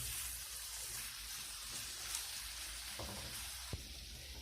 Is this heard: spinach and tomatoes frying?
yes